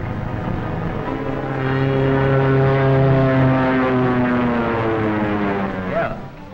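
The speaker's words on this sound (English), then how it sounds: "Biplane, two-seater, eh?" A two-seater biplane flies overhead with a loud, steady propeller-engine drone whose pitch slowly glides downward as it passes, then fades a little at the end.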